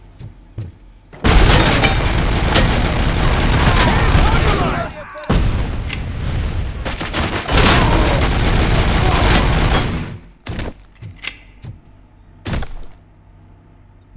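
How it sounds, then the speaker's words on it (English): A grenade blast in the Robocop video game erupts amid long, loud stretches of rattling gunfire and heavy booms that cut off abruptly, followed by scattered sharp shots and thuds. "Freaking grenade."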